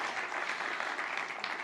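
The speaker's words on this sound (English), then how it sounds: "give a quick round of applause to the organisers" Conference audience applauding the event organisers, a steady dense wash of clapping at moderate level with no talk over it.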